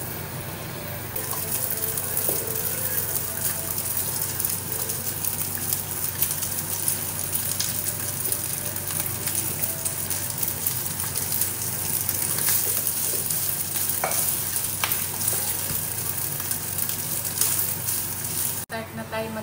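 Garlic frying in hot oil in a pan, a steady close sizzle that carries on evenly for the whole stretch with no talking over it.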